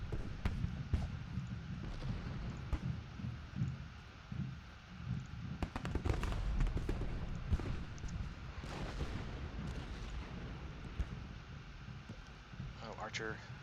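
Artillery fire in the Civil War strategy game Ultimate General Gettysburg: scattered distant booms and cracks rise over a steady rumbling battle backdrop, mostly muffled and far off, with a few sharper reports standing out.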